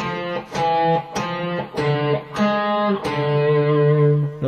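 Electric lead guitar plays a passage from the Prelude of Bach's Cello Suite No. 1, with distorted, effects-laden tone. Clear sustained notes change in steady rhythmic groups, loud and close, and no voices are heard.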